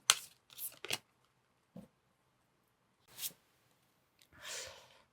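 Tarot cards are shuffled and drawn in a handful of short, papery riffling bursts separated by silent pauses, close and fairly soft.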